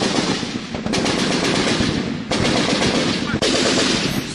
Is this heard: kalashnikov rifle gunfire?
yes